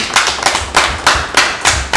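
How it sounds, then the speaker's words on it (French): Rhythmic clapping for health workers at a union rally, loud sharp claps in a steady beat of about three per second, close and alone without talk. "Il faut applaudir les camarades de la santé."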